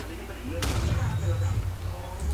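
A sharp blast from a Bulked Up video game bursts out early, followed by a dense, rumbling stretch of game noise and low booms, with voices talking underneath throughout.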